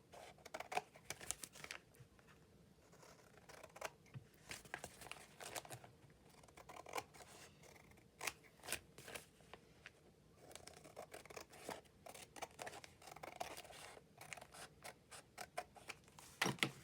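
Scissors snip through a paper bag being trimmed for a handmade bag journal, a quiet, irregular series of short crisp cuts with paper rustling and crinkling between them, close and alone without talk.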